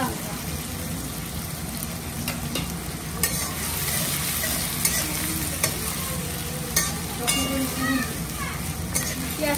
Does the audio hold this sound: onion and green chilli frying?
yes